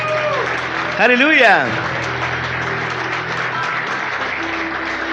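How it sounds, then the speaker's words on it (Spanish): A church congregation claps steadily during a worship service, a loud, continuous wash of applause with a shouted exclamation in Spanish rising over it early on. "fuerte aplauso al Señor"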